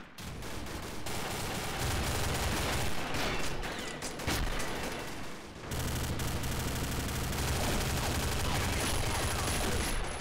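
Dense, loud automatic gunfire from a heavy-recoil gun in the shooter game Combat Arms Reloaded, rapid bursts running almost continuously with a brief pause midway, close and dominant.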